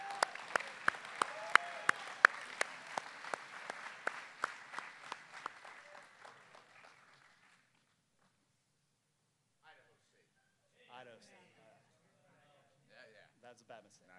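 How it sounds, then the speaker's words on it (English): Audience applause at a sports hall of fame induction ceremony, dense clapping with sharp individual claps that fades out after about seven seconds, followed by quiet and a few scattered sounds. "Let's give a big round of applause for Evan Blake Smith."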